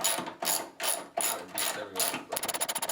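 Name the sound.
ratchet removing radiator support bolts on Abarth 500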